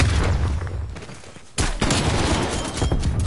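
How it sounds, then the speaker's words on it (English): A stun grenade bursts in a video game with a sudden loud blast, after sustained rumbling gunfire that dips briefly before the explosion and loud continuing noise, no talking. "Stun grenade out."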